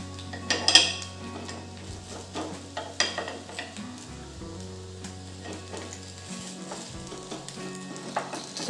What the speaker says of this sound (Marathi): आता खालची बाजू पण आपण छान भाजून घेऊ